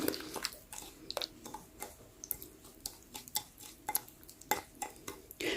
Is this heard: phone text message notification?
no